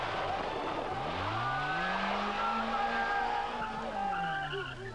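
Rally cars race through a Barbados stage, engines revving loud and close with rising and falling pitch sweeps as they pass, tires squealing and skidding on the road throughout.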